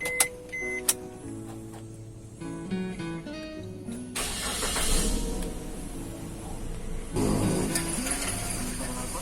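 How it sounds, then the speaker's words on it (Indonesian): Suzuki Ertiga engine cranks over and catches around midway, settling into a steady running drone over a broadband hiss, with some clicks and mechanical whirring beforehand during emissions-test setup. "Kemudian hidupkan mesin."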